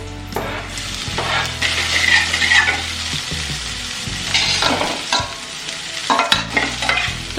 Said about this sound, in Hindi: तो प्याज जो है वो फ्राई हो गई है।